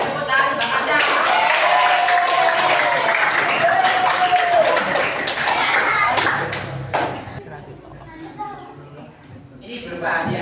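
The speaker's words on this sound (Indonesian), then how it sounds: "Beri tepuk tangan Bang Kanja." A classroom audience claps, with dense, quick clapping for several seconds alongside children's voices and chatter, then the applause fades as talking continues.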